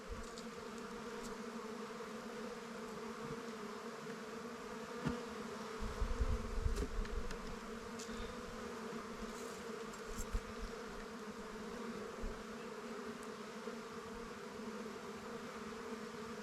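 Honey bees buzz steadily during a check of an emergency nucleus hive, a continuous close drone with a few louder swells as frames are handled.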